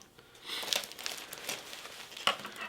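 Scissors snip through flower stems from a bouquet, a few soft crisp cuts and light rustling of leaves and petals, close and quiet with no talking.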